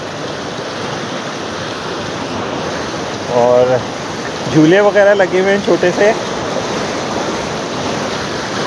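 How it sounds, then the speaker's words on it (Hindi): An artificial waterfall at Kundal Shahi in the Kutton Valley, Azad Kashmir, where stored water is dropped from above, makes a steady rushing roar throughout as someone talks over it. "असल में ये वाटरफॉल बनाई गई है, देखें यहाँ पानी सा स्टोर करके उसको ऊपर से नीचे गिराया जाता है"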